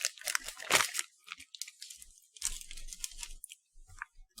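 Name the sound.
crunching a caramel-flavored snack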